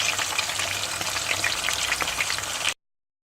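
Chapli kababs frying in a pan over medium heat, a dense, even, close sizzle with scattered crackles and pops, cutting off abruptly near the end.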